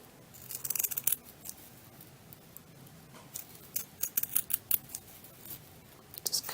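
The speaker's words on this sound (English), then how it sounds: "You're going to cut halfway up your ribbon and try to make the same." Scissors snipping burlap ribbon for a Christmas tree craft: quiet, crisp cutting clicks, a short run near the start, then a denser cluster of quick snips later.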